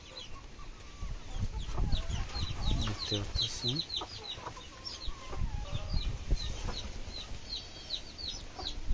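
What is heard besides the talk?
chickens clucking in farm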